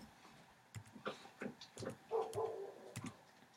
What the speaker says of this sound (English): that's my other dog outside